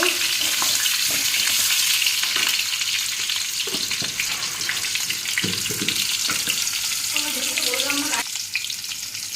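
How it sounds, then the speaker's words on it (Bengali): Boiled potatoes fry in oil for potato biryani, giving a loud, continuous sizzle close by, broken by occasional spatula scrapes and knocks against the pan. "এই সিদ্ধ আলুগুলো একটু ভেজে নেব বিরিয়ানি আলুগুলো ভেজে নেব"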